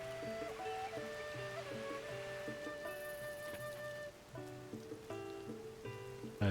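Rain falls in the video game Zelda: Tears of the Kingdom, a soft, steady patter sitting quietly under sustained tonal game music.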